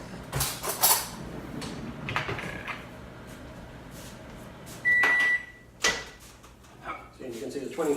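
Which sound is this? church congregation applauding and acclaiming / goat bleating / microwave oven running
microwave oven running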